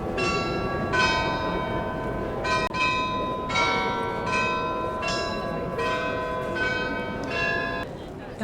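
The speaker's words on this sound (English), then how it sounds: "The bells finished chiming after..." Church bells ring out in Munich in a repeating sequence of bright, resonant strikes about a second apart. Crowd murmur and voices sit beneath the chimes, which continue until a brief lull near the end.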